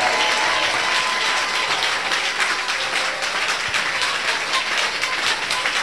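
A church congregation at a Sunday service applauds and cheers loudly, with sustained dense clapping that holds steady throughout and no distinct speech.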